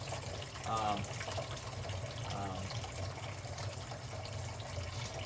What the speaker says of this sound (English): See the hot water's still running, which is good.